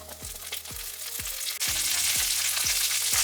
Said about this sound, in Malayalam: നമുക്കിനി ഇതിനകത്തേക്ക് കുറച്ച് ഗ്രീൻ പീസ് ഇട്ട് കൊടുക്കാം.